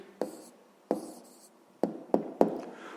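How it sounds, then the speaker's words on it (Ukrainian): Pen on paper writing down a math answer, a few short scratchy strokes and taps spaced irregularly, close and clear in a quiet room. "Записуємо відповідь."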